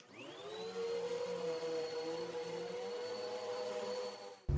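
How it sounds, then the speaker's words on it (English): A vacuum cleaner revs up and runs steadily while sucking rust and debris from under a lawn mower deck. Its loud, continuous motor whine holds a pitch that rises at start-up, then cuts off abruptly at the end. "Next thing I'm going to do is I'm going to vacuum all this up"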